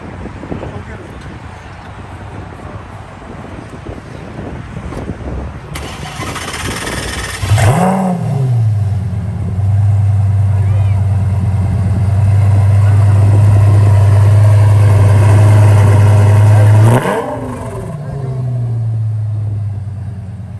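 A Lamborghini at a car meet fires up with a sharp bark, then settles into a loud, steady, low idle rumble before shutting off, as people talk nearby.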